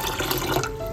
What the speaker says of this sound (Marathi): तर याच्यामध्ये सर्व पाणी घालून घेते आणि आपल्याला ना व्यवस्थित कुकर वरती शिजायला ठेवायचं